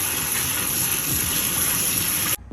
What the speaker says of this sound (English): I'm just gonna water this Aglaonema.